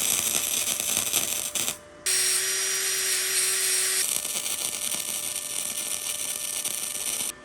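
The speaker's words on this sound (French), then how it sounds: "Voilà ma première soudure." Welding a metal part on a Renault Megane: a loud, continuous crackling hiss with a steady tone, briefly cutting out near the start, then resuming unbroken and close until the end.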